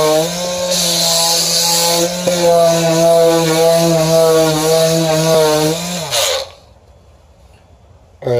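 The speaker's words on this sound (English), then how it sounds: "let's see if I can sand these down a bit" Power sander run on a fiberglass subwoofer box in a car's back seat, a loud steady whining motor hum held for about six seconds before it winds down and stops.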